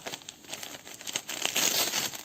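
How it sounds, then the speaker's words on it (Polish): Gift wrapping paper being torn open close by, a quick run of crinkly rustling and ripping bursts that grows louder toward the end. "porwij papier"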